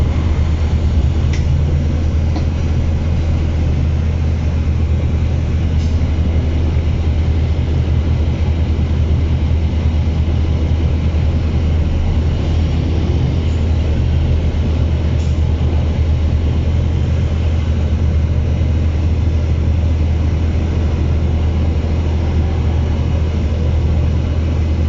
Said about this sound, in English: all the engines go very smoothly and sound wonderful on these buses